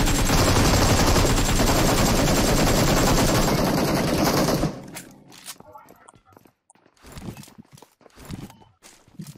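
Gunfire in the PUBG Mobile battle royale game: a long, dense, loud burst of shots for about four seconds, then scattered quieter footsteps and movement sounds while people talk in Hindi.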